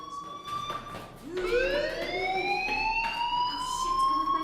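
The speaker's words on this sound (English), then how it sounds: "Hey, do you hear that fire alarm?" A fire alarm in the video game Life is Strange blares continuously, a loud rising electronic siren tone with layered harmonics that swells in after a quieter start and holds steady.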